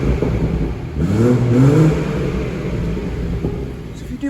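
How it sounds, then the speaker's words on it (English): BMW 440i M Sport Gran Coupe in sport mode with both exhaust sides open, engine rising in a brief rev and settling back to a steady idle rumble, close and fairly loud. "pop the car into sport, allow both the sides of the exhauster to open up and give the car that little bit of a rev for you"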